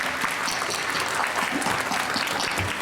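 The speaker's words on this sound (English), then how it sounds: "Let's give them all a clap." An audience at the 2023 Hong Kong Young Writers Awards primary-level ceremony claps for the nominees, a dense, even wash of applause that stays steady from start to finish.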